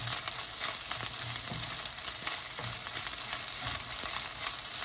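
Green onion fries briefly in a pan, producing a constant bright hissing sizzle at moderate loudness with faint stirring scrapes and no voices.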